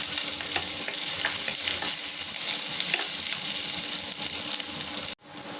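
Chopped onion and curry leaves fry in a hot pan with a loud, continuous sizzle and faint stirring, broken off by a sudden cut near the end.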